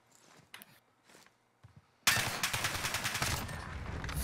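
Video game gunfire bursts in, loud and dense, after a quiet stretch of faint thumps and footsteps, continuing as rapid shots to the end.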